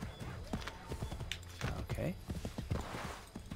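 Horse hooves clip-clopping in Assassin's Creed 3, a steady rhythmic trot of soft thuds continuing throughout over game ambience, with someone briefly speaking.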